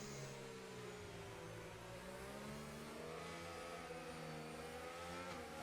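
A race car engine in the racing game F1 25 at the Great Britain round revs hard and steady, its pitch sweeping up close and loud, with no talk over it.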